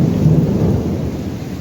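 Heavy rain pours down steadily with a deep low rumble of thunder, loud and close, without voices.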